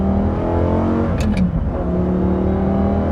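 A sports car engine pulls hard under acceleration, a loud steady drone close up that rises smoothly, with a brief high whine partway through and no voices.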